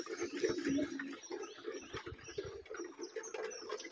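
Pigeons at a pigeon farm in Keshabpur, Jessore, nesting and raising chicks in coops and baskets, cooing and murmuring close by in a continuous low warble with faint chirps and rustling, and no talk.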